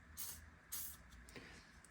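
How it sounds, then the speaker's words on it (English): Penetrating oil is sprayed into a Polaris RZR rear wheel bearing carrier in two short, faint hissing bursts, followed by quieter shop noise. "all I do to clean this up is I put a little bit of penetrating oil in here"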